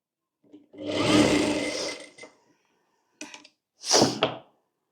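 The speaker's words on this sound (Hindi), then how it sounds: "अब इस तरह से पूरे में सिलाई कर लेंगे।" Sewing machine stitching a blouse back neck, a steady whirring run of about a second and a half, then two short bursts after a pause, close and fairly loud with no talk.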